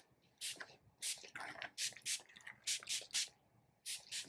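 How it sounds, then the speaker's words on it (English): Sea salt spray misted onto long hair during a mullet haircut: a series of short sharp pump-spray bursts, some doubled, close and fairly loud with brief pauses between, no talk. "So sea salt spray."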